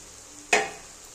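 Ground spices, cumin paste, dried chilli powder, Kashmiri chilli powder and ginger-garlic paste, drop onto fried onions in a hot pan for Bengali-style mutton, giving one sudden loud sizzle that quickly fades within a second, with no talking.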